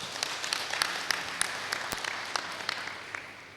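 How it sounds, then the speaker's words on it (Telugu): An audience claps together at a Guru Purnima celebration event in Bodhan, a scattered patter of many hands heard at a moderate distance and rather faint. "ఒకసారి గట్టిగా చప్పట్లు కొడదాం."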